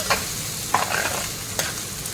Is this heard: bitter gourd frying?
yes